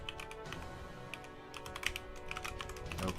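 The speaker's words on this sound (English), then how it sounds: "Keyboard ASMR." Quick, steady typing on a computer keyboard, each keystroke a sharp close click in a fast irregular rhythm, faint overall with no voice over it.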